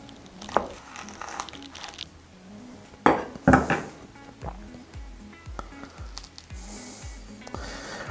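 A Chiltepin x Lemon Drop hot pepper sliced open with a knife on a hard surface, giving a few close, crisp cuts and clicks with scattered clatter, louder bursts midway.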